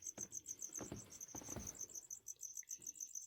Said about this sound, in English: Are you getting those crickets?